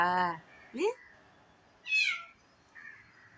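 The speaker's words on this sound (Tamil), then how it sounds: "பூனை கூப்பிடுறதா" A cat meows several times at close range, four separate calls of varying pitch and length spread over a few seconds, loud and clear against a quiet room.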